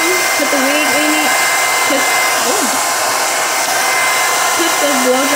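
A handheld blow dryer runs loud and steady, drying a wig wrapped in a towel, with a constant airy roar; a voice talks faintly beneath the noise.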